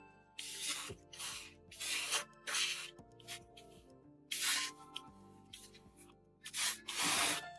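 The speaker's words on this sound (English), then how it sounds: "I'm going to get the airbrush loaded and prime this guy" Short bursts of an airbrush hiss as primer is sprayed onto a 1/35 scale model figure, repeated in an irregular on-off rhythm, close and fairly quiet.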